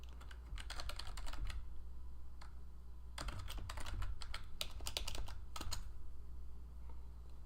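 Someone types on a computer keyboard in quick, uneven bursts of soft clicking keys, close by in a quiet room, with brief pauses between runs.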